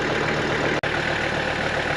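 A boat motor on a dugout canoe runs at a steady idle, a low continuous rumble with one brief dropout partway through.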